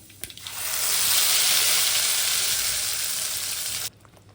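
Spice paste hits a hot pan with a loud, sudden hiss that swells into a steady close sizzle for about three seconds, then cuts off sharply.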